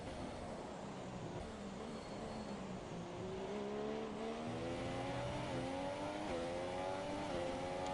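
F1 race car engine in the racing game F1 2017 at Bahrain, a loud continuous high-revving whine climbing through upshifts down a straight, close and alone with no talk.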